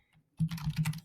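Keys clatter on a new computer keyboard in a short burst of quick, close typing, about half a second of soft rhythmic taps after a brief quiet pause.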